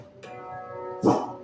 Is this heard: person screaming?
no